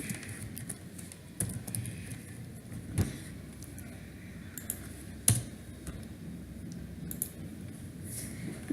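Computer keyboard keys are pressed to type a line of Java code, giving sparse, faint clicks and taps in short bursts over a quiet room background.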